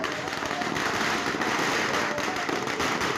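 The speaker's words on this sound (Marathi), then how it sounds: "हरिनामाचा गजर आणि फटाक्यांची आतिषबाजी" Firecrackers crackle in a dense, continuous barrage welcoming a palanquin procession through a village lane, loud and close, with bursts overlapping throughout and voices faintly beneath.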